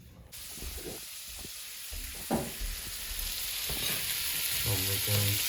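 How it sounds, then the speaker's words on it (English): Sweet Italian sausage frying in a pan for homemade pizza, a steady sizzling hiss with occasional scraping and stirring clatter, close by and growing louder toward the end. "I'm making sweet Italian sausage for the pizza."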